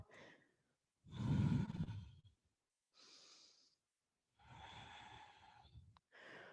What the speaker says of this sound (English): Controlled inhales and exhales.